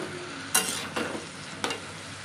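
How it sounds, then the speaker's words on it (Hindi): Chopped raw papaya stirred in a pan, with three distinct scraping strokes over a quiet background and a faint sizzle between them. "तो इसको पपीता को अच्छे से मिक्स कर लेंगे"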